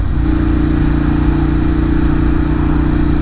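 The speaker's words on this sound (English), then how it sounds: "The bike feels great. The bike sounds great." A Ducati 916 motorcycle engine runs steadily and loud, a close, continuous throbbing drone with no change in pace and no voices.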